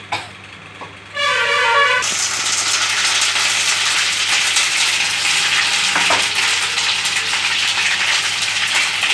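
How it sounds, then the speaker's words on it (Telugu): Loud, steady sizzling of ginger-garlic paste frying in hot oil with prawns, continuing without pause after a brief tonal beep at the start. "ఇప్పుడు మళ్ళీ అల్లం వెల్లుల్లి పేస్ట్ వేపాలి"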